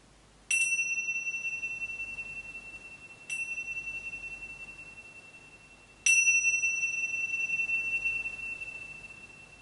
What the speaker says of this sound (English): until the sound of the bells